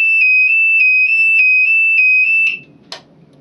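An ADE security alarm panel sounds its intruder alarm, a loud steady high electronic tone pulsing in even beats for about two and a half seconds, then cutting off, followed by a short click.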